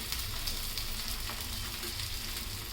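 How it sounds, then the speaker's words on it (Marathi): Sabudana and bhagar thalipeeth fry in a small amount of oil for a fasting dish, giving a steady, close hiss and crackle that holds evenly throughout, with no talking. "दुसरं पण थालीपीठ टाकते बघा थोडंसं वरलं तेल"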